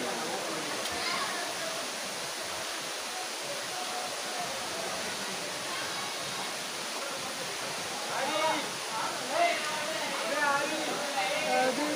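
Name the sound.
Tada waterfall rushing water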